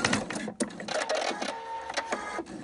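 A sewing machine set to zero stitch length tacks elastic in place, a loud, close mechanical whirring with short rapid bursts and brief pauses over a couple of seconds.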